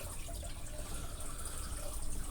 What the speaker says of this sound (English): So as the water comes down, it flies down, shoots through the pipe, hits here.